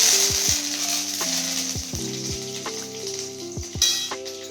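Curry leaves sizzle and crackle in hot oil for poha, a steady frying hiss broken by repeated clinks and scrapes of a stirring spoon against the pan.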